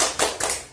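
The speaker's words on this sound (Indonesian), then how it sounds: "Tepuk semangat dulu kalau gitu boleh?" A group doing a rhythmic spirit clap, two quick bright claps close together, short and fairly loud in an indoor training session.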